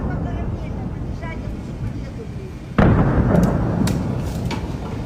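Explosions from a wartime rescue sound through a news broadcast: one sudden heavy blast with a low rumbling tail, followed by scattered crackles and sharp pops, under a low steady background noise.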